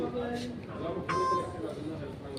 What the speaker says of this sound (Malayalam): മെട്രോ സ്റ്റേഷനിൽ കാർഡ് പതിപ്പിക്കുന്നു.